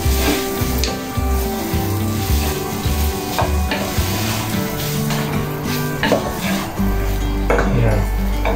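Beef sizzles and sautés in a hot pan for Ilokano papaitan while a utensil stirs and scrapes it, a steady loud frying hiss with repeated clattering stirs, and no talking.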